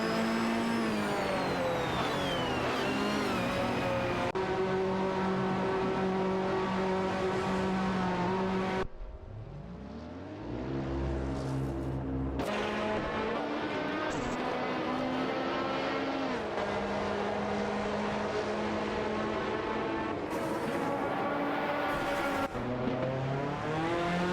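Porsche race cars, including a Porsche 961 LM, accelerating in an AI race: loud, high, sustained engine whine rising and shifting in pitch through gear changes, with a brief lull before the roar resumes.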